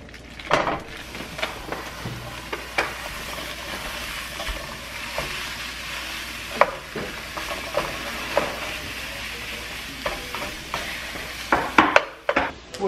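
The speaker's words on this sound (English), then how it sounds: "Brown up our breakfast sausage." Breakfast sausage browns in a frying pan with a soft, steady sizzle, broken by scattered clinks and scrapes of a utensil against the pan, close by with no talk.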